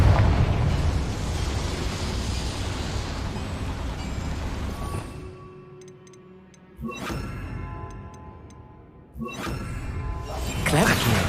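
Fiery spell blast in a video game set in a boiler room, a dense roaring burst that fades over several seconds, followed by sharp crackling bursts and settling debris, with faint ticking between.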